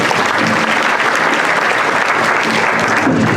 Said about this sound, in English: That please give them a round of applause.